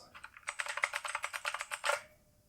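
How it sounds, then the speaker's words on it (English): Rapid, steady keystrokes on a mechanical keyboard, a close run of crisp clicks lasting under two seconds before stopping into quiet. "If it was a mechanical keyboard, it would sound a little something like this."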